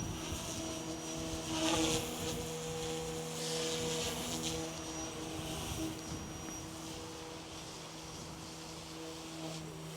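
A Goosky S2 MAX RC helicopter flies and settles to a soft landing, its rotor and motor making a steady, fairly loud whine and hum with slight swells as the throttle eases off.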